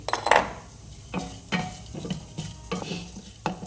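Rice and spices are roasted and stirred in a pan on the stove, a spoon scraping and knocking against the pan in irregular strokes over a soft sizzle, close by and without talk.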